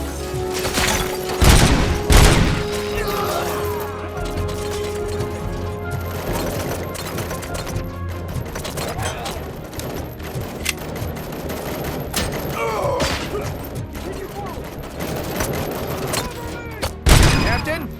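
Gunfire in the RoboCop: Rogue City video game, with dense, sustained automatic bursts and heavy booming shots throughout, loud and busy, while voices shout over the firefight.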